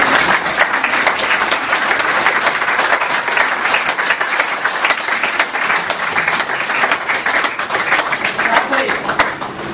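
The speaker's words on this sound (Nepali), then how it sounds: "हामी सबैजनाले उहाँलाई जोरदार तालीद्वारा स्वागत गर्नेछौँ।" A church congregation in Pokhara, Nepal applauds loudly to welcome a guest, with dense, sustained clapping from many hands throughout.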